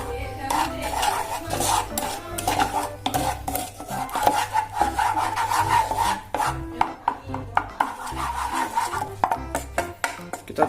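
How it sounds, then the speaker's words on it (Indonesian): Tapioca flour being stirred into just-boiled water for boba pearls, a spoon scraping and rubbing against the pot in a steady rhythm of close, moderately loud strokes with no talking. "Kita masukkan setengah dari tepung tapiokanya. Setengahnya dulu, kemudian diaduk."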